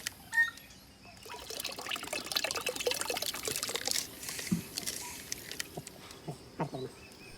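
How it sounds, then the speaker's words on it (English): Organic additives poured into a 200 liter barrel for an on-farm soil health setup: a watery, splashing pour with uneven surges and drips, moderately close and steady over several seconds, without talk. "all the natural organic additives are added into the 200 liter barrel"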